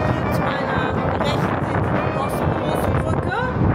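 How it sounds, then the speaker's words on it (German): Strong wind buffets the microphone high up over Istanbul, a constant loud rumbling gust with voices faintly mixed in. "Ganz schön windig hier oben."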